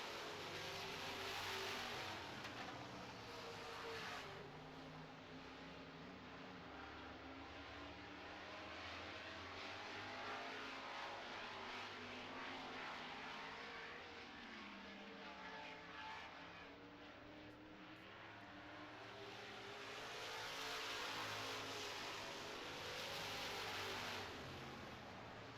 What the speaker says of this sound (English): The black and green 18 getting within striking distance on Jamie Vernaus in the 2 truck.